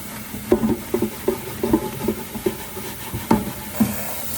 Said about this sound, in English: I'm using an SOS pad to kind of scrub it all off